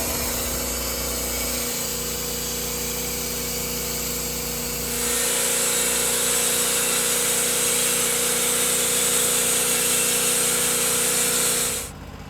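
A power saw cuts steadily through a white oak timber-frame rafter, a continuous whine that grows louder and denser midway, then stops abruptly near the end; nearby and alone with no talk.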